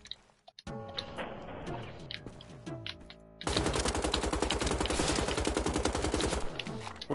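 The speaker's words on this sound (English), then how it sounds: "let's switch it over to the machine gun." A machine gun fires in Wolfenstein: The Old Blood: a short burst of rapid shots, then a long, dense, sustained stream of loud automatic fire with clattering mechanical detail.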